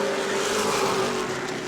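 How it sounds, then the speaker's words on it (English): Short-track race cars run side by side down the back straightaway at New Smyrna, a dense, steady engine roar held at an even pitch for under two seconds with no voices. "Last couple of cars on the lead lap are side by side down the back straightaway."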